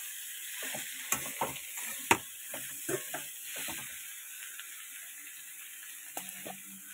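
Chopped bottle gourd dropped into a hot pan and stirred, giving a steady soft sizzle with scraping stir strokes and a few sharp clicks, no talking.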